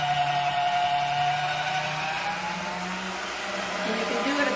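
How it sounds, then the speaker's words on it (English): An electric pasta machine rolls pasta dough through its rollers with a steady, close motor whine and hum that holds throughout, dipping slightly partway. "So we're going to turn on the machine now."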